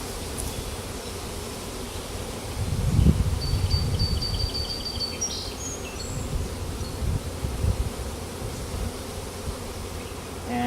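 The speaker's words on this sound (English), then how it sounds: "Still has this little bit of a clump of bees on it" Honey bees from a swarm, a small clump left on a branch, buzzing in a low steady drone with a few louder swells nearby, outdoors with faint rustling and no talk.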